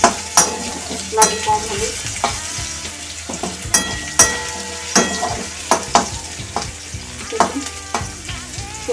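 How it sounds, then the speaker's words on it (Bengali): Potatoes fry in hot oil for a bottle gourd and shrimp curry, with a steady sizzle under repeated sharp clinks and scrapes of a spatula stirring in the pan; someone speaks a few words. "আলুটা আমি একটু ভালো করে কষে নেবো"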